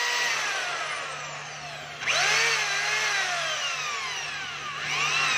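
A DeWalt D25033 rotary hammer runs forward close by, its motor whining loudly and surging as the speed is varied, with one sharp rev-up partway through and no talking.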